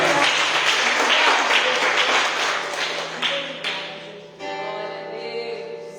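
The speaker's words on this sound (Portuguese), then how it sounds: "Você consegue aplaudir o nome do Senhor nessa manhã?" A church congregation applauds during morning worship, dense clapping that fades toward the end as sustained musical tones ring out beneath it.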